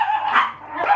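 Dogs barking indoors at something seen through open blinds, a close, loud run of sharp barks and yips that fills the whole second with no talk over it.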